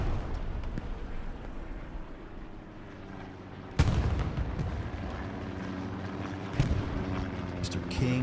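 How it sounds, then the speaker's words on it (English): Artillery fire booms during a video game battle storming Omaha Beach, with several heavy blasts, one sharp and loud near the middle, over a constant rumble of battle, while someone talks over it. "Oh my god, that artillery dirty."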